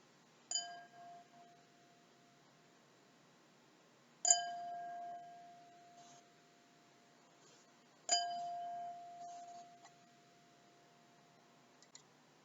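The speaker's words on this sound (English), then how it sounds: "She gently tapped the edge of the glass with a fork, and it made a delightful" A fork taps the rim of a crystal glass three times at slow, even intervals, and each strike leaves a clear, high ring that fades away. The sound is soft and nearby, with no voices.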